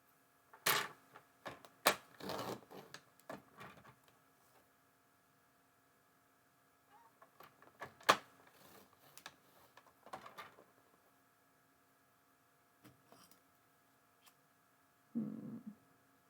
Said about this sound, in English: My trimmer probably could have used a sharper blade to do that.